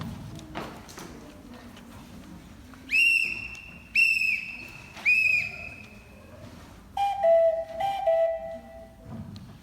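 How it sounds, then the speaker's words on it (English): Police whistles blown in a stage musical, several short shrill blasts in a row followed by lower-pitched trilling toots, loud and close over a murmuring background. "it's time to blow our whistles"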